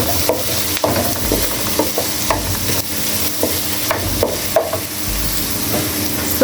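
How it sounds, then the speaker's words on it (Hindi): Tomatoes tip into a pan of sizzling onions and garlic for a mixed vegetable curry, and the steady frying hiss is broken by stirring scrapes and clatters recurring about once a second, close and fairly loud. "तो अभी हम इसमें टमाटर डालते हैं।"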